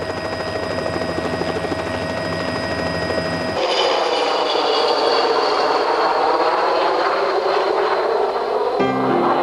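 A helicopter flies over an ash-covered volcano during a monitoring visit, its loud steady rotor and engine roar filling the scene, with no talking.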